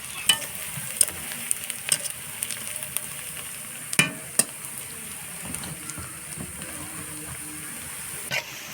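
Onions frying and being stirred in a pan, a steady soft sizzle with scattered sharp clinks and scrapes from the stirring, close and fairly quiet with no talk.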